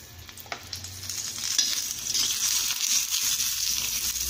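Green chillies pan-roasted and then stir-fried in a little oil, with scraping and pressing of the chillies against the pan over a gentle sizzle that swells and steadies, close and without voices.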